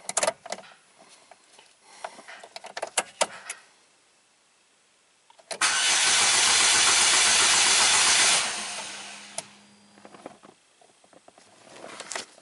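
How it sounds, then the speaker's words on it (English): The engine of a 2009 Chevy Cobalt with a misfire fault cranks with a loud, rushing whir lasting about three seconds after some clicks and handling noises, then fades; no talking. "Alright, I like how it cranks."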